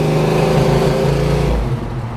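A 1972 Chevrolet SS convertible with Flowmaster dual exhaust on 2.5-inch pipes revs up close and loud, a steady deep engine rumble that swells and settles slightly over two seconds, with no voices.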